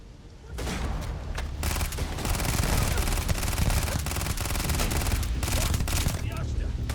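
Sustained rapid gunfire from Starfield combat rattles on for several seconds, dense, loud bursts close by with repeated sharp cracks layered over one another.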